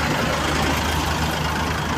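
Steady low rumble of a Yutong coach's engine heard from inside the cabin on a road trip, a constant droning hum with a broad hiss of road and air-conditioning noise and no talk.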